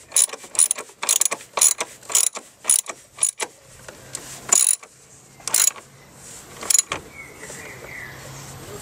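A ratchet with a socket extender loosens parts during a service on a Rover 75 CDT, making quick bursts of close, crisp clicking that repeat at an uneven pace before trailing off into quieter handling noises.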